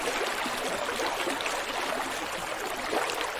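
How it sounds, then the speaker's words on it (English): A roaring river tumbles over rocks far down in a valley, giving a loud, steady, unbroken rush of water from start to finish. "I hope here you hear the roaring of the river, the sound of the river"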